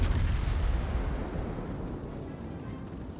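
Warship guns fire shells in the World of Warships naval game: a heavy, booming blast rolls out and slowly fades over a few seconds, loud and deep with no talking.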